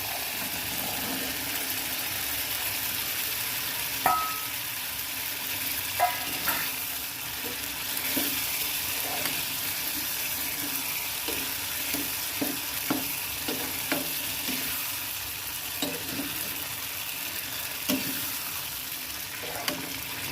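Chickpeas frying in masala sizzle steadily in a pan on the stove, with repeated scraping knocks of a spoon stirring them, close and continuous with no talk.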